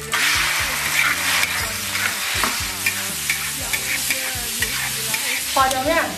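Slices of meat stir-fried in hot oil, with a loud steady sizzle and repeated scraping strokes of a spatula against the wok, close and without talk.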